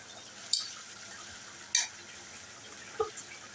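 Okra being stirred as it fries in a pan for a vegetarian dish with salted hilsa: three sharp scrapes of a utensil against the pan, spaced about a second apart, over a faint steady sizzle.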